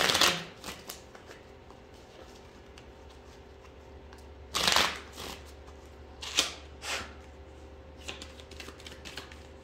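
Tarot cards being shuffled close by, a soft riffling flutter with a few sharper bursts of card snaps scattered through, quiet and without speech.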